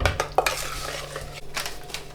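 A spoon scrapes and clinks against a metal pot while stirring apple and raspberry jam on a stove over medium heat, with soft continuous scraping and occasional knocks; no one speaks.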